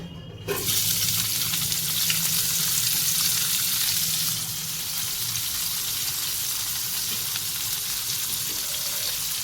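Onions drop into reused hot oil for a gravy and hiss in a strong, steady sizzle. The sizzle jumps up at the start and then settles into a slightly softer continuous fry with faint stirring.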